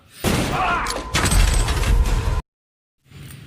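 A rapid burst of pistol gunfire in a film scene rattles loudly for about two seconds, cuts to sudden silence, then a softer rumble returns.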